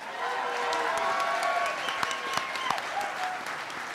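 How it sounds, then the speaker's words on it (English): Steady applause from a symposium audience fills the room, dense clapping holding at an even level for several seconds with scattered sharper claps and faint voices underneath. "Thanks for all the applause, folks."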